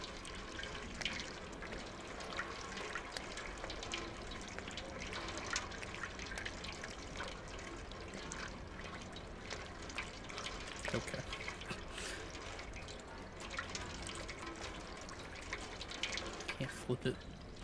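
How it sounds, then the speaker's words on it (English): Water runs and trickles steadily in the video game Stray, a continuous splashing flow that lasts throughout while a voice talks over it. "Oh no, it's water."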